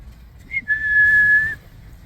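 A single clear whistle for a dog during remote e-collar training: a short chirp, then one sustained steady tone lasting close to a second, close and loud over quiet outdoor background.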